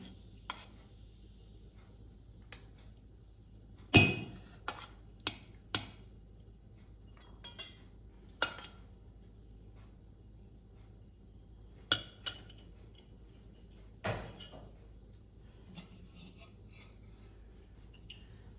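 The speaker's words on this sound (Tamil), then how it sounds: "நம்ம இப்போ டிஃபன் பாக்ஸ் ஃபில் பண்ணிடலாம்" Metal utensils clink against a tiffin box as it is filled with rice and tomato kuzhambu, scattered sharp taps and knocks with quiet gaps between them, fairly close and not loud.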